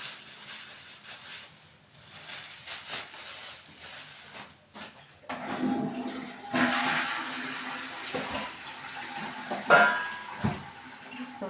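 Tap water runs while hair-dye tools such as a bowl and brush are rinsed at a sink, a steady hiss and splash that grows louder and fuller partway through, with a few brief clatters near the end.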